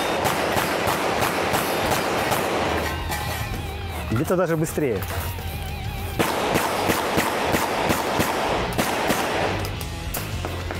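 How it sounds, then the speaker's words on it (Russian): Rapid shotgun fire from a competitor at a practical shooting match, a fast run of sharp blasts in quick succession with some pauses, while someone talks over the shooting. "Сейчас стреляет из ружья стрелок."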